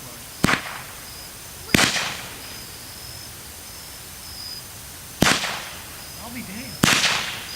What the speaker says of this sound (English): That one exploded.